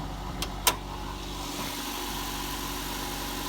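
Car engine running at a steady idle just after starting, a low even hum with a couple of sharp clicks near the start, close and continuous, no talking.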